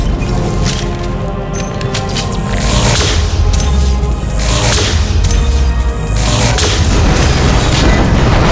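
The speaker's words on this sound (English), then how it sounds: "Firing concussive shot!" Concussive shot power fired in Mass Effect during combat, heavy repeated booming blasts in a loud, dense battle mix with no clear speech.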